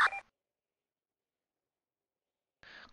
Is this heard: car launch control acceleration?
no